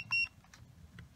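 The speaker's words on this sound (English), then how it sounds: "Not sure what that beep was." A single short electronic beep sounds once, brief and fairly quiet, during a home air conditioner repair, followed by faint room noise.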